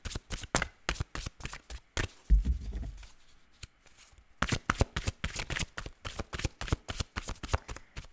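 Cards are riffled and shuffled in quick crisp bursts, with a short pause and a soft thump in the middle before the rapid flicking resumes.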